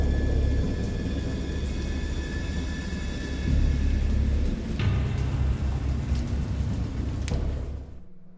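A thunderstorm roars as a steady wash of heavy rain with low rumbling thunder and a couple of sharper cracks, loud and continuous before cutting off near the end, with no voice over it.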